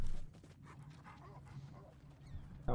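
A dog barks in Ghost of Tsushima, yips and whimpers scattered over a low rumbling game ambience, with a louder burst at the very end.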